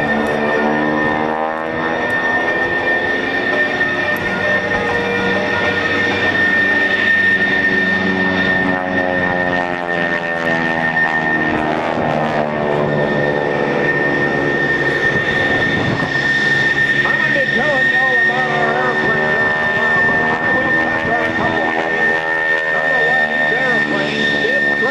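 An F-14 jet's engines roar at the 2004 Rhode Island Air National Guard open house airshow: a loud, sustained, high-pitched whine with a shifting roar beneath it as the aircraft passes, continuing steadily throughout.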